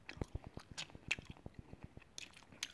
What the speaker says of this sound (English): And if you hear a chewing sound, which I know you guys are gonna hear